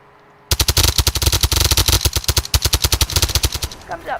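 Rapid bursts of gunfire shooting at car tires in the Roblox game Emergency Hamburg, loud and close, firing in quick repeated volleys for several seconds after a brief quiet start.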